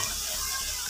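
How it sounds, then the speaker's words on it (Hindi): A little water goes into frying masala with black cardamom for aloo gosht, a loud hissing sizzle with stirring, short and continuous, no talk. "थोड़ा सा पानी ऐड करेंगे"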